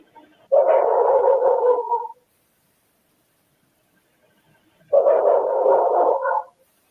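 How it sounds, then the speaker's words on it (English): Two bursts of small-dog barking, each lasting over a second, heard at a distance with a muffled, slightly noisy quality and silence between them. "Do you hear that little extra bark right there?"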